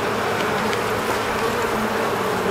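Honey bees buzz densely around a beehive brood frame holding drone brood. The hum is close, loud and continuous, with a steady insect drone and no talking.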